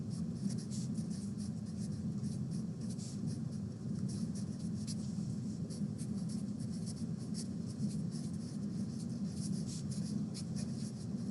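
Pencil or pen writing a sentence on paper, a steady continuous scratching and rubbing with faint rhythmic strokes, quiet and close, with no voices.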